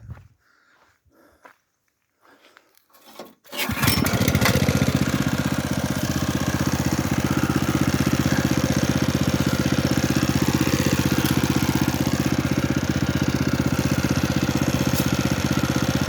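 A potato digger machine's engine catches after a few seconds of quiet handling noises, then runs steadily and loudly close by with a constant mechanical drone.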